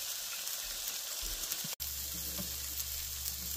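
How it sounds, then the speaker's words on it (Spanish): Chilaca chile frying with onion in a pan, a close, even hiss of sizzling oil with a brief break midway and a low hum beneath. "Aquí voy a dejar que se fría unos 3 minutos junto con la cebolla."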